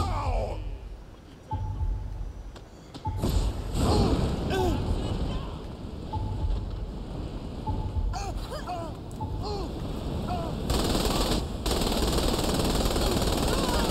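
Sustained automatic gunfire and explosive shots pound continuously from the video game Saints Row The Third Remastered during an attack on the Syndicate's building, loud and dense with bursts and impacts throughout.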